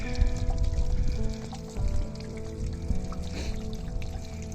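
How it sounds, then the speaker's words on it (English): Water drains and glugs out of an RV hot water heater on an Avenger 26BK travel trailer, a steady trickling pour with irregular gurgling bursts, fairly close. "So the hot water heater is glugging away."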